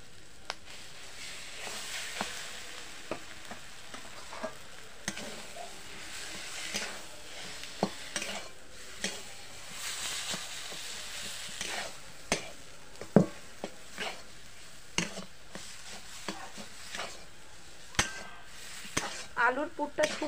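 Spiced mashed potato filling for aloo paratha sizzles quietly in a pan while a spoon stirs and scrapes in frequent sharp taps throughout, with no talking.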